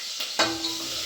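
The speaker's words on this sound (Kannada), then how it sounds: "ಹಸಿಮೆಣಸು ಹಾಕ್ತಾಯಿದ್ದೀನಿ" Green chilies drop into hot oil in a pan for pulao and a sudden burst of sizzling follows, staying loud and close for the brief moment.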